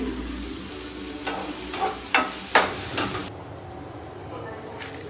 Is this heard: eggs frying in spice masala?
yes